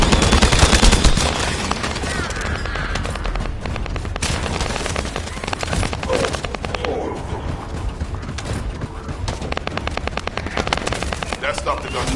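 Sustained video game gunfire from a sci-fi shooter, dense rapid automatic bursts and clattering shots filling the whole stretch, loud and continuous with no pauses.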